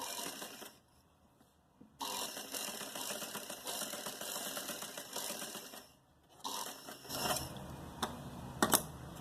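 A sewing machine stitching a gala neckline design runs in two bursts of rapid whirring with a brief pause between, close and fairly loud, ending with a few sharp clicks.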